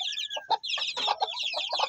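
A native mother hen clucks softly and steadily among her chicks, whose high thin peeps overlap her low calls, close by and without talk in the early morning.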